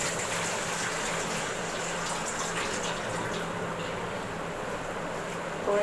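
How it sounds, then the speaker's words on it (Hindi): Soaked rice, left to soak an hour, pours into a pot of boiling water on a home stove for jeera rice, giving a steady close bubbling hiss and rushing water sound without talk. "अब इसमें मैं डाल दूँगी राइस जो मैंने 1 घंटा पहले भिगो दिए थे।"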